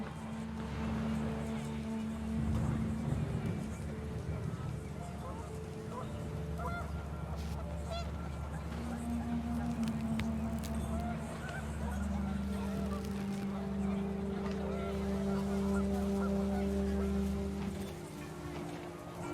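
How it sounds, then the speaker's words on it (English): Panicked geese honk repeatedly over a steady wind and game score in What Remains of Edith Finch, a loud overlapping flock call that persists throughout with no speech. "panicked geese appeared and quickly went"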